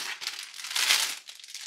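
Plastic bags full of LEGO Ninjago pieces crinkle and rustle in a steady, close stream of crackling, swelling louder in the middle, with no talking.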